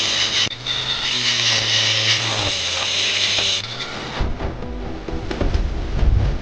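A power tool grinding a part of a Huawei Watch 4 Pro during a screen repair, a steady whining buzz with a sustained tone for about three seconds before shifting to rougher scraping, no talking.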